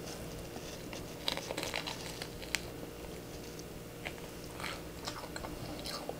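Biting into and chewing pistachio cream salt bread, soft close-up crunches and moist chewing sounds with a few sharper bites, quiet and without talk.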